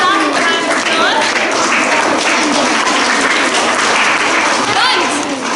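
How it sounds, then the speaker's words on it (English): Children and staff at a school assembly applaud a class, loud, sustained clapping in a hall with excited young voices and shouts mixed in throughout. "Let's give our class a round of applause."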